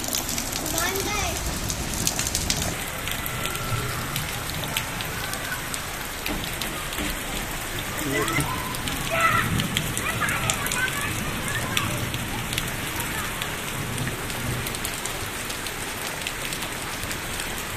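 Steady rain pours down in a dense, continuous hiss of drops pattering on surfaces, close and fairly loud throughout, with occasional sharper splashes and voices faintly present beneath it.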